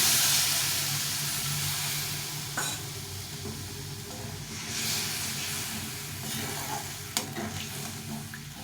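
Hissing sizzle from a cooking pan of green banana kofta curry as boiled water goes in, a steady broadband hiss fading slightly with a couple of sharp clinks, no talk.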